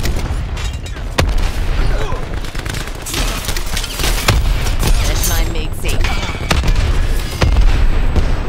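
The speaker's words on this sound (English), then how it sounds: "Cluster grenade going out." Cluster grenade explosions in Call of Duty Black Ops 4, a rolling series of sharp booms and cracks layered with gunfire across a busy battlefield, with voices talking over the chaos.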